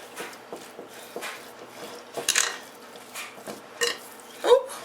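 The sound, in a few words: mixing soaked crushed nuts into batter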